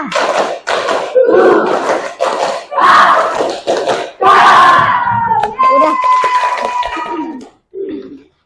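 A class of students performs the tepuk semangat clapping chant during an ice-breaking session, loud group shouting and rhythmic claps in bursts, ending with a short final shout.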